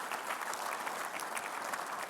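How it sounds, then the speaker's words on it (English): Audience applause at a construction conference, a steady, dense patter of many hands clapping, soft and somewhat distant, continuing evenly for a couple of seconds with no voices over it. "how about a round of applause for all the gentlemen that stood up here today to speak"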